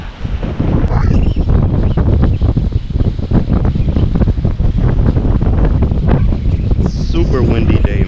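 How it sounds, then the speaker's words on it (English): Strong, constant wind buffeting the microphone on a fishing pier at Dania, with a steady rumbling roar throughout and possible boat or water sounds beneath it. "Super windy day, man."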